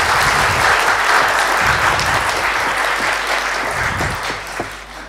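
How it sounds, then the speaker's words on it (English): A conference audience claps for live transcribers at a talk, producing dense, loud, sustained applause that fills the room and then tapers off near the end. "Let's give them a applause."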